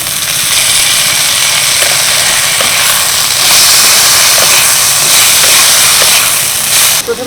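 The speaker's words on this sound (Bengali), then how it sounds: "এবার এই ডুমো ডুমো করে কেটে রাখা আলুগুলো দিয়ে দেবো।" Diced potatoes hit a hot pan already holding lightly fried grated coconut, raising a loud, steady sizzle and hiss that runs unbroken for the whole stretch with no voices.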